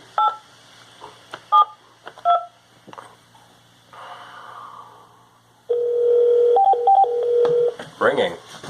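A phone call connects with a few short dialing beeps, then a steady ringback tone sounding in evenly spaced pulses, followed by a brief voice.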